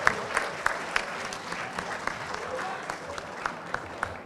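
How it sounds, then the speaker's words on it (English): Applause at the closing ceremony of a Model United Nations conference, a crowd clapping with sharp individual claps standing out over the steady patter, and a voice partly audible underneath. "Give it a big round of applause for everybody again"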